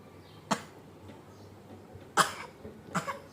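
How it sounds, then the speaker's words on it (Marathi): Three short, sharp coughs spaced apart, the first alone and the last two close together, sounding forced and theatrical rather than a natural fit. "नाटकी खोकला नाटकी"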